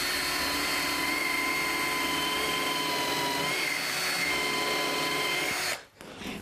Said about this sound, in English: And screw it in. Let's put another one in.